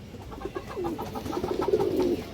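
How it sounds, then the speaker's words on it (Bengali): A male Muslodom pigeon coos close by, a short series of soft, throaty pulses swelling into a longer rolling coo, with no voices over it. "মুসলদম নর কবুতর মাসাল্লাহ অনেক সুন্দর একটা কবুতর এই দেখেন"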